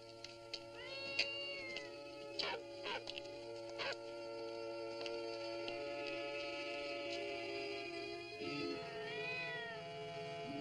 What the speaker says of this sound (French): c'est seulement un chat.